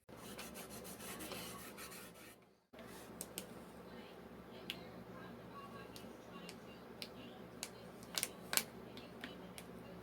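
Sanding or rasping to distress a whitewashed thrift-store rolling pin, a faint, steady scratchy rubbing broken by a short pause and a few sharp ticks and clicks, close up.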